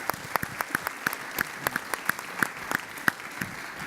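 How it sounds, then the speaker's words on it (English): Light, sparse applause from a modest conference audience at BlinkOn 9, individual claps clearly audible in an uneven rhythm over a quiet background. "can we get another round of applause for them?"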